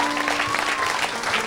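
A church congregation claps and cheers in praise of the Lord, a dense burst of close applause from many hands filling the whole moment.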